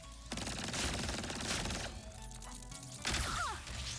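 Rapid missile volleys firing in the video game Ratchet & Clank: Rift Apart, dense bursts of thumping blasts and crashes in two loud waves, with a short whistling streak near the end.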